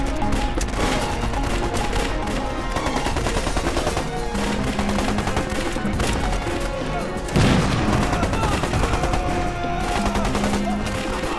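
Sustained gunfire from a war film: dense, overlapping rifle and machine-gun bursts with booms, loud and continuous throughout, with a faint voice buried underneath.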